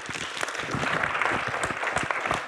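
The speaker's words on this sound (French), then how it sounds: "on peut applaudir Jacques Ferrier" Audience at a lecture applauding architect speaker Jacques Ferrier, a steady dense wash of many hands clapping from mid distance, with no voices over it.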